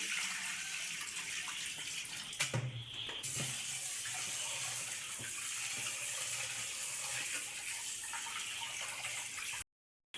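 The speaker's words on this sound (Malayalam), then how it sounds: "അരി കഴുകി ഒരു അരമണിക്കൂർ വെള്ളത്തിൽ ഇട്ട് വെക്കുകയാണ്" Rice being rinsed and then left to soak in water for a chicken mandi, with steady running and splashing water throughout and a brief louder gush near the start, no talking.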